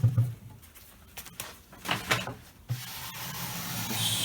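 A cabinet scraper drags across an antique wooden top, rasping off a dry, flaky finish in a few short, close strokes followed by a longer steady scrape.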